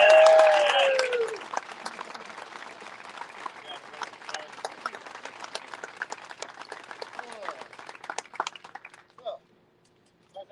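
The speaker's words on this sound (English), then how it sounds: "Let's give him a round of applause." A crowd gathered outdoors for a wrapped truck reveal breaks into loud applause that swells at first, then thins into scattered claps and fades to a few last ones.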